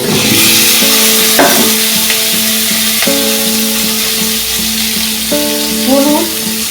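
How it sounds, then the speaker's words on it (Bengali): Sliced green chillies and papaya fry in a hot pan while being stirred, making a loud, continuous close-up sizzle with occasional scraping stirs and faint tones beneath. "কাঁচা লঙ্কা চেরা দিলাম দিয়ে একটু নেড়ে নেব এরপর পেঁপেটা দিয়ে দিলাম"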